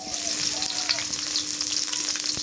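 Malabar spinach and taro stems frying in hot oil in a pan, a steady close sizzle throughout with faint crackles and no talk.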